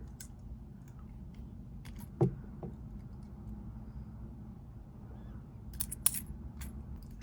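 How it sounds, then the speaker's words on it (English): Small cutters snip off excess wire while handmade earrings are assembled, one crisp sharp click up close in a quiet room, followed by a few faint light taps and clicks of handling. "Snip off the excess"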